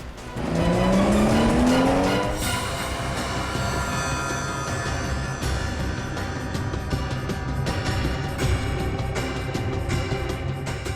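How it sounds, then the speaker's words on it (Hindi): A car accelerating hard with a rising engine whine and squealing tires, loud and close at first, then a sustained roar of traffic-like engine noise continuing throughout without talk. "ये गाड़ी इतनी तेज क्यों भगा रहा है अचानक?"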